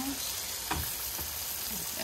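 Steak and fish frying together in butter in a pan give a loud, close, continuous sizzle, with stirring scrapes mixed in, heard on an ice shack camping trip.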